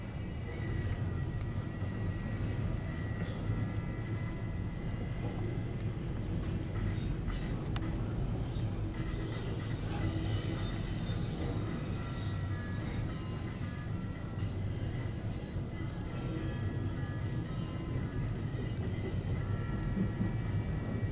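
Intermodal freight train of double-stack cars passing at a distance, a steady low rumble and rolling rail noise that holds evenly throughout, with no talking.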